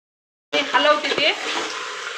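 Vegetables with turmeric frying in a pot for matka biryani, a loud sizzle bursting in after a short silence and then settling into a steady hiss, with the scrape of stirring.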